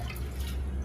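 Water poured from a dipper (tabo) into a baking mixture, a steady close splashing pour with dripping texture and no talk.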